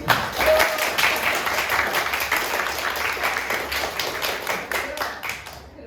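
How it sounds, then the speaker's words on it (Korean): Middle-school students at a summer academy lecture break into sustained applause, a dense, even patter of many hands that carries for about six seconds before thinning out. "박수 쳐줄 거야?"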